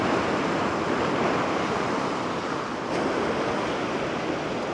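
Churning white water washing over rocks along a rocky shoreline fishing spot, a loud, steady roar of surf close by that fills the whole stretch without pause.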